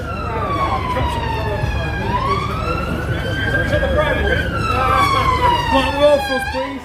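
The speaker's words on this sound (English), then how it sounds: "That was a police siren." A police siren wails, rising and falling through a long sweep, loud and fairly close, with a rumble of traffic underneath.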